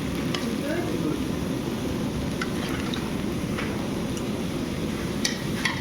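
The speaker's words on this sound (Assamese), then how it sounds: "এয়া লাল লালকৈ মই মাছৰ আলুখিনি ভাজিলোঁ।" Potatoes for a fish curry fry in a pan, giving a steady, even sizzle with occasional faint ticks and pops, moderately close and without talk.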